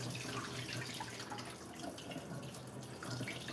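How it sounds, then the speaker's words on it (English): Rinse water pouring off a batch of lentils, a steady close splashing stream into a sink that runs unbroken for a few seconds with no talking. "So what I do is I just will like pour this out"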